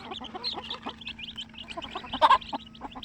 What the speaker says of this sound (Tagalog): Chikiting manok, no?